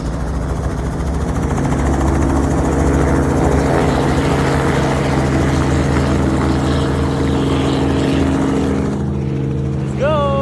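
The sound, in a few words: propeller aircraft flying overhead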